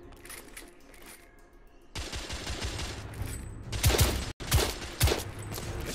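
Rapid bursts of firearm fire in The Order 1886, loud and close, starting after a quieter stretch and continuing in dense volleys with a brief pause, over a background of game ambience.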